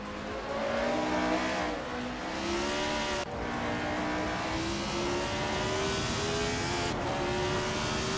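Several race cars accelerate around a track, their engines whining upward in overlapping rising tones, one after another, loud and continuous with brief gaps between gear shifts.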